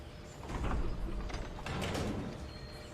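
In Final Fantasy XIV, an airship engine starts up with a steady mechanical rumble and faint creaking, gear-like clatter that swells and holds for about three seconds.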